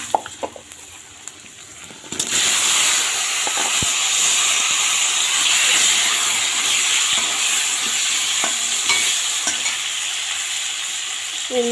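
Cut potatoes drop into hot oil that holds bay leaf and whole cumin. A few quiet clinks give way to a sudden loud, steady sizzle and hiss that lasts to the end, with occasional utensil taps and no voices.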